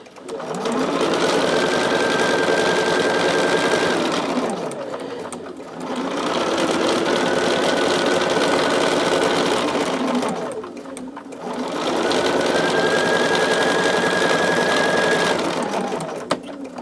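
A sewing machine runs steadily while stitching rows of quilt pieces together, loud and close, in three long continuous bursts separated by brief pauses.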